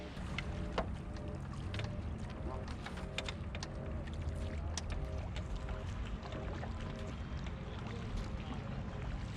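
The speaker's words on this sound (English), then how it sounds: "we are going to do some paddling in a marathon class canoe using the marathon canoe stroke" A marathon class canoe paddled with the marathon stroke on flat water, giving a steady, continuous wash of water and hull noise throughout, with light splashes and faint wind.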